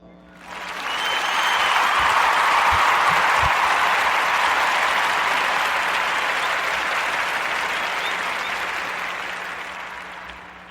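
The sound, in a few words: audience applause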